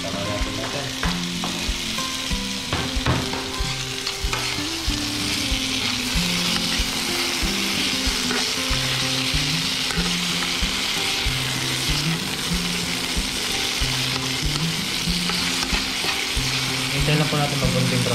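Onion, garlic and tomato sauté in a pan with a constant crackling sizzle and occasional stirring, heard alongside steady background music.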